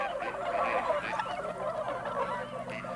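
Swans calling in a loud, continuous chorus of overlapping honking cries from a large flock gathered at a winter feeding site, with no voices over it.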